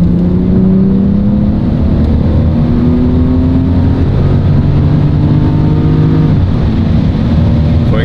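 A car engine with an automatic transmission revs hard under kickdown, its steady drone climbing in pitch over several seconds before a brief dip near the end as the gearbox shifts, loud and close throughout.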